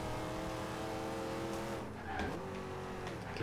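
Dodge Charger engine in Forza Horizon 2 holding a steady drone, then dropping in pitch with a brief tire squeal as the car slows under braking, loud and close.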